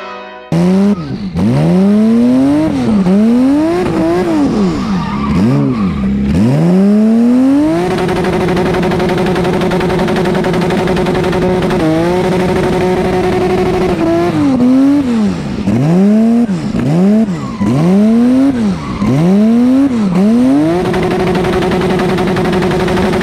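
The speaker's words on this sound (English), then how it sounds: "I'm gonna leave off with the burnout" A loud engine revs repeatedly during a tire burnout by a custom Bat Rod car, pitch sweeping up and down, with a sustained high rev and continuous tire roar throughout.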